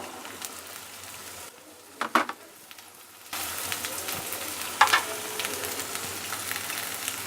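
Peas and cauliflower frying in a pan for a gobhi mix bhujiya, a steady close sizzle that drops low and then jumps louder as the cauliflower goes in, with a few stirring clatters.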